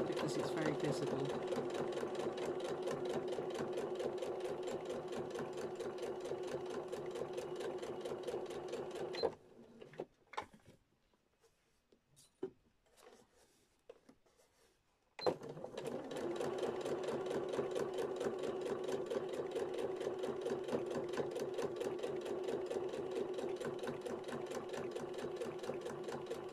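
A sewing machine stitches a vinyl-front project bag in a steady, fast mechanical whir. It stops for several seconds with a few faint clicks in between, then resumes at the same steady pace, close and continuous.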